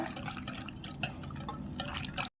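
Banana cake batter with a pinch of salt is mixed in a bowl, producing soft, continuous wet stirring and faint clinking up close before cutting off abruptly, with no talking.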